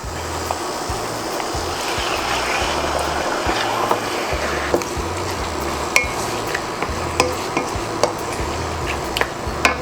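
Ox tripe frying in hot oil for kare-kare, with a continuous close sizzle, low rumbling stirring and occasional sharp clicks of a utensil against the pan.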